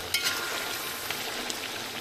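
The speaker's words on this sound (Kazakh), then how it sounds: "етпен бірге қуырып аламыз." Meat and carrots fry in oil for Samarkand plov, a close, steady bright sizzle with a few small crackles and pops and no talk.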